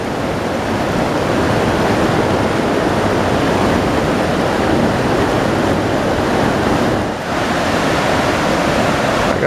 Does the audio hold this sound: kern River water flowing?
yes